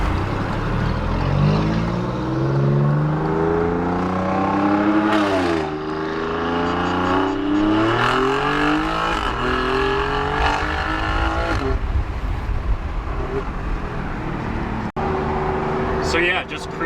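A loud Alfa Romeo Giulia Quadrifoglio exhaust with an X-pipe roars as the engine climbs through the revs, then eases off and cruises on the highway in fifth gear at 60 mph with a steady drone, a voice talking over it.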